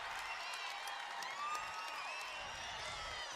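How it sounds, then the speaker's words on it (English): A basketball crowd at the Breslin Center cheers and applauds, producing a dense, steady roar of voices and whistles that stays fairly even and distant throughout. "Crowd is really starting to pick up here in the Breslin Center"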